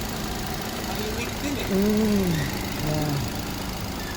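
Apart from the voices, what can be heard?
Nissan Almera engine running after repair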